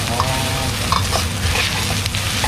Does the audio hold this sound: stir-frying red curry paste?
yes